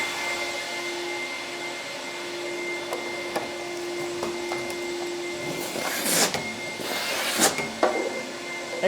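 Workshop dust extraction system pulling air through PVC pipe, a steady loud whooshing suction with a tonal hum, interrupted by a few clunks and bursts as blast gates are opened and closed.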